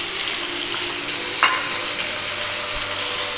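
Potatoes fry with tempering spices in a pan, giving a loud, even hiss of sizzling oil close by, broken by a brief scrape of stirring.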